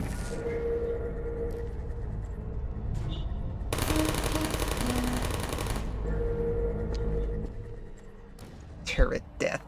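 An automated turret in Portal opens fire on the player, a loud, dense burst of rapid gunfire lasting a couple of seconds over a background hum, with a few sharp knocks afterward.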